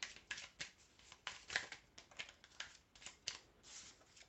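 Small answer cards are shuffled and drawn by hand for a card reading, giving a rapid run of soft, close papery flicks and slides in a steady rhythm, quiet and without speech.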